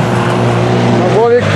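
A UAZ off-road car launching at a club drag race, a loud engine roar rising as it pulls away with a brief tire chirp, with voices of onlookers over it.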